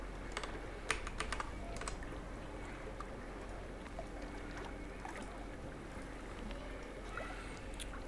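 Light clicks of typing on a computer keyboard, pasting and entering a console command, scattered over a steady low background hum with no speech.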